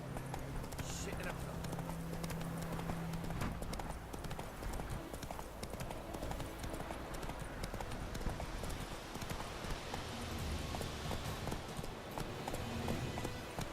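Hooves of Roach, the horse in the video game The Witcher 3, pound in a fast, steady galloping clip-clop, loud and continuous, with game music and ambience underneath.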